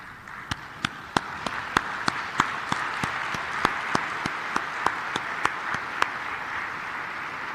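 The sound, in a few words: applause for African coffee farmers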